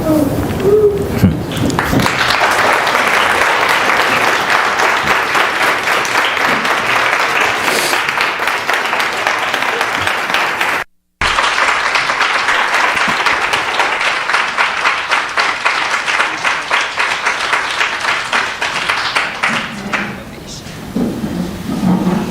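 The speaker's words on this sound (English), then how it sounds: "I guess that standing ovation says it all" A church congregation gives a standing ovation after a sermon, with dense, sustained clapping and cheering that fills the room for about twenty seconds, broken by one brief gap near the middle.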